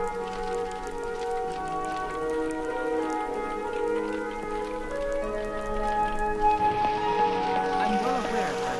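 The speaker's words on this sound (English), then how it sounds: "Even if it is raining, it doesn't feel like it's raining." Steady rain patters across the landscape in Skyrim, a soft even hiss that persists throughout beneath sustained musical tones.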